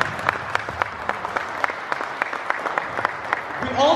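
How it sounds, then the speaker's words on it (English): Audience applause at the prize distribution ceremony of a 2018 badminton tournament, a steady bed of many hands clapping with sharper individual claps standing out throughout. "So please round of applause."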